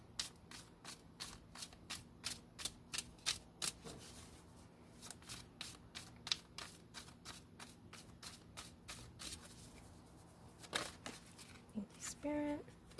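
Tarot cards are shuffled by hand close by, with quiet rhythmic riffles and taps repeating steadily throughout and a faint voice murmuring in the background.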